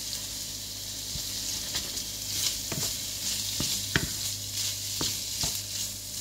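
Lasagne roulade filling fries in a pan, a constant bright sizzle with several sharp spatula taps and scrapes scattered across it.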